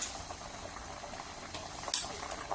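A sour curry with pickled bamboo shoots simmers in a pot, giving a faint, steady low bubbling with small pops, alone and without talk.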